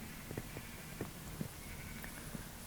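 Several short, faint sheep bleats from Minecraft Bedrock Edition come at irregular intervals over a hissy background.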